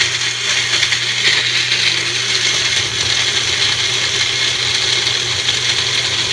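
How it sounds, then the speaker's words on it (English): Blender whirring steadily as it purées jerk shrimp marinade ingredients, a loud, continuous motor roar with a gritty, churning texture, close by and without any talking. "we're gonna blend all this together"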